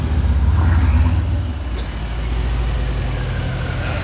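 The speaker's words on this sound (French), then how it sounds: "Et l'échappement Brabus sur cette génération là de classe S63, c'est extraordinaire." A Mercedes S63 coupe with a Brabus exhaust rumbles loudly and deeply nearby, its low engine tone swelling and then settling in the open air.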